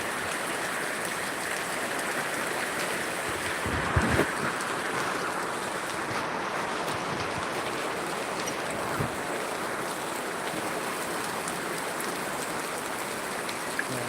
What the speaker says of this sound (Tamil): நல்லா மழை பெஞ்சிட்டு இருக்குது ஜோர்னு